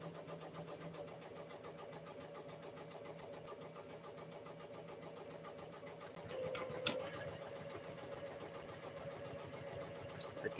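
A Ricoma MT 1501 embroidery machine stitching at a steady, rapid mechanical rhythm, a continuous even whirring that is fairly faint and close, with a brief louder clatter partway through.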